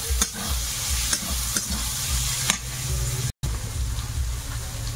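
Onion fries in hot oil with ginger-garlic paste and chopped green chilli for prawn biryani, a loud, steady close sizzle broken by stirring scrapes and one brief dropout.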